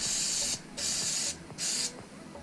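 Jig-A-Loo lubricant sprayed onto the rear brake parts of a 2010 Nissan Murano: two close, hissing aerosol bursts of about half a second each, separated by short pauses.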